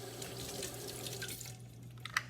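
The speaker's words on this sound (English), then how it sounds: "Just gonna rinse this off real quick." A metal measuring spoon is rinsed under a running kitchen tap while cooking cauliflower potato soup, water splashing steadily into the sink for about a second and a half before tapering off into a few faint drips.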